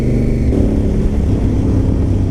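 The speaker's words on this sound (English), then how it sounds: "So that's my short ride 2 video of me riding my Africa Twin to the" A Honda Africa Twin motorcycle cruises steadily on a short everyday ride to the shops, its engine drone and road rumble continuous and loud throughout, with no voices over it.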